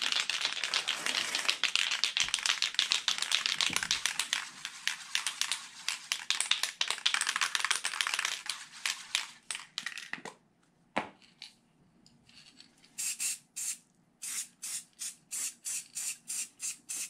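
A long stretch of hissing spray with rapid rattling, then a pause and a series of short, rhythmic spray bursts, close by.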